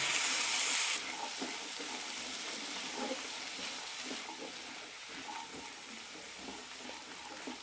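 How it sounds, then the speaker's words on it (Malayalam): Chickpeas (Bengal gram) sauté in a pan for a masala, giving a steady, soft sizzle and frying hiss. Occasional stirring clicks and scrapes sound up close at low volume. "ഇനി ഇതിലേക്ക് കടല ഇട്ട് കൊടുക്കാം ഒരു മിനിറ്റ് നന്നായി വഴറ്റാം"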